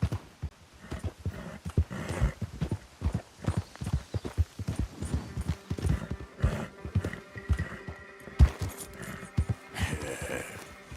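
A horse gallops in Red Dead Redemption 2, with rapid rhythmic hoof thuds driving steadily and loudly throughout, a brief whinny-like sound and game music or ambience rising toward the end.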